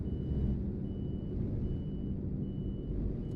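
A truck in Euro Truck Simulator 2 reverses with faint, steady periodic beeps over a heavy low diesel rumble, the engine drone dominating throughout.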